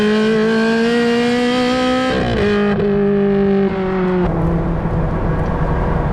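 Ferrari 430 Scuderia Challenge Stradale engine howling loud and steady at high revs, pitch dipping as it shifts through gears, heard alone without talk.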